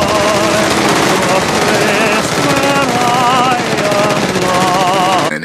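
Sustained Tommy gun machine-gun fire from a gangster film scene in Miller's Crossing, a loud continuous rattle lasting several seconds and blended with music.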